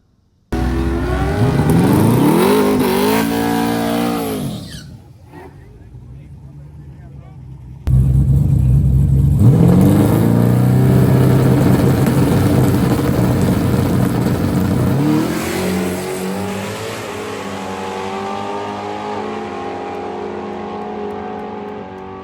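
The Murder Nova small-tire no-prep drag car roars loudly through a test pass, its engine revving hard and rising in pitch, cutting out briefly, then blasting again before fading into a steady drone.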